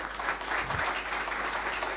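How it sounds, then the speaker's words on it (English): An audience at a civil-military fusion conference applauds a panel, steady crowded clapping heard fairly loud and close throughout. "please join me in giving a huge round of applause to the panel."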